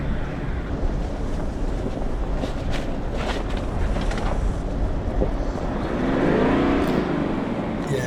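Ineos Grenadier climbing an off-road track, a steady engine and drivetrain rumble mixed with heavy wind buffeting, with a rising engine note near the end as a gear change takes hold.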